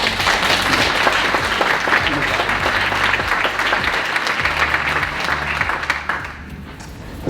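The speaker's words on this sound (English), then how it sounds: "a big round of applause, please" A conference audience at BrightonSEO applauds to welcome a speaker: dense, steady clapping from a large crowd fills the hall for several seconds before thinning slightly at the end, with a low hum beneath.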